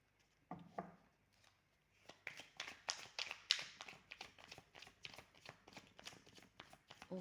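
Oracle cards of the Béline deck being shuffled by hand before a draw: a few soft taps, then a long run of quick, fairly close papery riffles and flicks, quiet and without talk.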